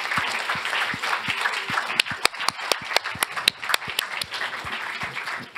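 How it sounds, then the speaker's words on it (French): Audience at an insurance-industry talent awards event applauds the winning collaborators; a crowd's clapping fills the clip, with several loud, sharp individual claps standing out near the microphone toward the middle and end. "Voilà, on peut applaudir l'ensemble."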